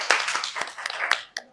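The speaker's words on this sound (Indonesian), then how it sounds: "Tepuk tangan untuk Elvira" A few people in a classroom clap briefly for a student, a short burst of scattered, uneven handclaps close by that stop after about a second.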